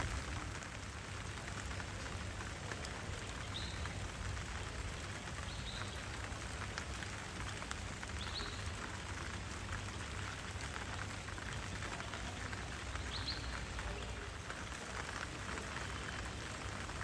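Rain falls steadily and softly on a rooftop terrace garden, a constant, fairly quiet hiss with a few faint higher chirps above it. No voices are heard.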